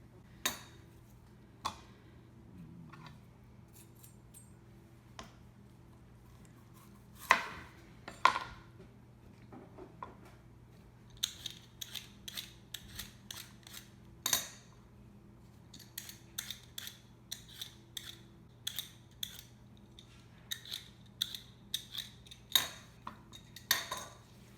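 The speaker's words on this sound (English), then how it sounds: "to peel these, to chop them into wedges and get them ready to go in the oven with the short ribs" Turnips being peeled and cut into wedges in a kitchen, with faint, sparse knife clicks and taps on a board scattered through a quiet room.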